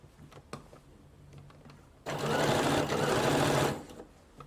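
An electronic sewing machine stitches a skirt hem in one continuous loud whirring run of about a second and a half, preceded and followed by quiet handling clicks and taps of the fabric.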